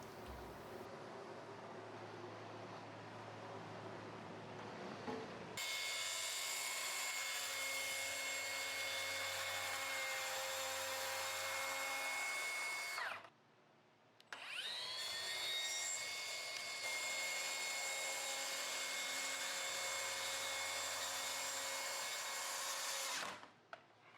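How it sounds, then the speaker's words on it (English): Track saw cutting birch plywood sheet goods for simple cabinets: a loud, steady high-pitched motor whine running long stretches, with a short pause mid-cut before the blade spins back up and continues to the end. "it's time to get out the track saw and cut this beautiful birch plywood down to size"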